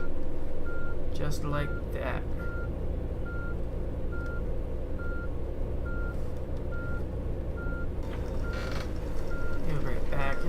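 A tour bus in Tourist Bus Simulator backs up, its reversing alarm beeping in an even, steady rhythm over a loud, constant engine drone, with someone talking briefly over it.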